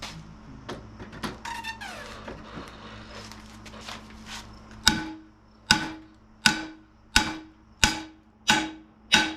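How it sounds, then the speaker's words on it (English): Broken wheel studs are hammered out of a Toyota Land Cruiser FJ40 rear axle hub: after some quieter clinks and rattles, seven sharp metallic hammer blows ring out at an even rhythm. "we're gonna hammer them out, press the new ones in"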